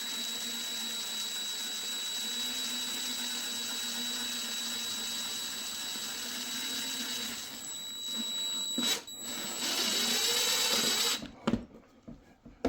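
A power drill drives screws into wood during a DIY GMRS repeater build. A steady, high motor whine runs for several seconds, then gives way to short, uneven bursts near the end.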